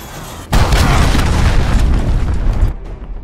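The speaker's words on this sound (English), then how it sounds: "Enemy cruise missile, take cover!" A cruise missile strike in Call of Duty: Modern Warfare lands with a loud, booming explosion that hits suddenly and rolls on as a heavy rumble for about two seconds before cutting away.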